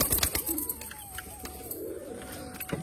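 A male Kalshira pigeon of a foreign breed coos softly in a small loft, the low murmuring calls fairly close and steady under faint background hiss.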